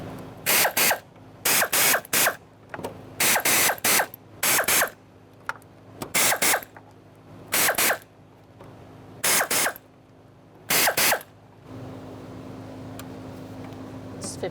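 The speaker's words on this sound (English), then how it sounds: "All right, so let's snug these up and then we'll torque it to 52 inch-pounds." Hand ratchet snugging the fuel pump bolts on a 2002-2006 Toyota Camry, with short bursts of rapid clicking repeated about nine times at close range, separated by quiet pauses.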